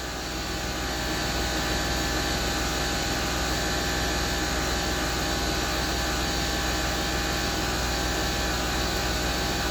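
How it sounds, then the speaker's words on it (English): A Land Rover Discovery 3 air suspension compressor pump runs steadily, a constant, even mechanical hum and whir at moderate level, unbroken for the whole stretch with no talk. "The pump's still going."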